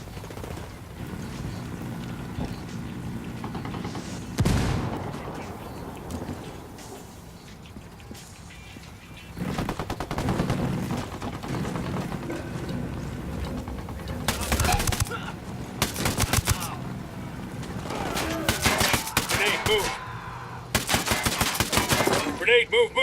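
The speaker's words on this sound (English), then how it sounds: "Eyes on a gun turret." A mounted gun turret fires in Ghost Recon Wildlands, with dense bursts of automatic gunfire that grow more frequent and louder toward the end over a steady bed of battle noise.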